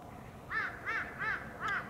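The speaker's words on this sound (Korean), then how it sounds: "저 소리가 저거 까마귀 소리인가?" Crow cawing near a city observation deck, four loud, harsh caws in an even rhythm at a moderate distance over a low outdoor background hum.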